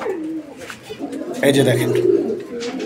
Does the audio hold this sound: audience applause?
no